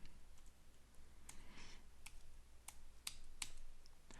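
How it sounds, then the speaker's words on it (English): Keys clatter at a computer keyboard as PowerShell code is entered at the command line, a quiet, uneven run of clicks and ticks with a few sharper taps near the end, no talking. "It's a little awkward typing all that at the command line"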